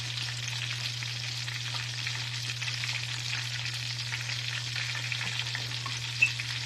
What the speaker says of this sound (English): I'm using a wooden spoon so I don't scrape my pan up. It's already starting to melt.